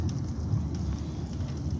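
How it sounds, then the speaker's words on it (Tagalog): Steady, dense patter of light rain falling continuously, a soft even hiss with no voices. "Malakas yung ambon guys,"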